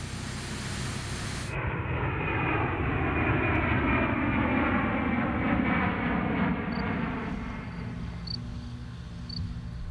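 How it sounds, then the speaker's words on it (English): Giant Airbus Beluga cargo plane flying, a loud steady broadband engine roar that holds for the whole stretch with no voices. "the European prototype is shipped on board a giant Airbus Beluga cargo plane"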